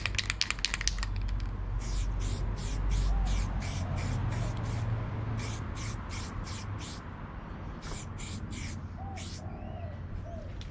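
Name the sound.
spray paint being sprayed onto a handbrake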